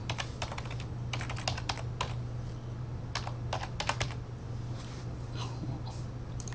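Bursts of rapid typing on a computer keyboard during PC gameplay, close and crisp clacks in quick clusters separated by short pauses, over a low steady electrical hum.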